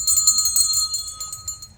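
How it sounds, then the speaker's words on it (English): A bell rung as a signal, clear bright metallic strikes repeated rapidly in a short ringing burst that fades at the end. "when you hear this bell"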